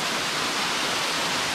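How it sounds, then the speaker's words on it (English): Waterfall in Eaton Canyon, Pasadena, heard up close at the end of a hiking trail as a steady, loud, broadband roar of falling water, constant throughout with no voices. "And here it is up close, baby. The waterfall."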